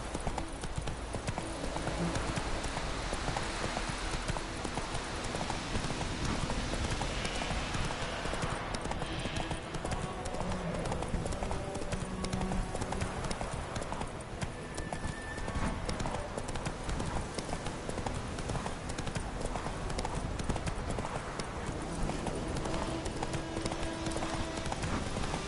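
In The Witcher video game, the horse Roach gallops with a rapid, steady clip-clop of hooves, loud and continuous for a long stretch, with occasional game sound effects and brief speech mixed in.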